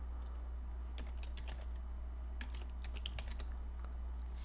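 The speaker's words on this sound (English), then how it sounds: "Now I can continue typing if I want." Quiet, irregular clicks of keys being pressed on a computer keyboard, scattered taps at uneven intervals over a steady low electrical hum, close and faint, with no speech.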